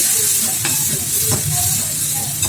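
Small onions sautéing in a hot pan, giving a steady, close sizzle with a few stirring scrapes throughout and no talking.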